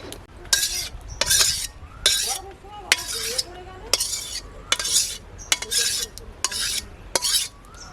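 Cooked green pea ghugni is ladled out of a wok in a village kitchen. Metal scrapes and clinks come in about nine sharp, evenly spaced bursts, close and fairly loud, with no talking.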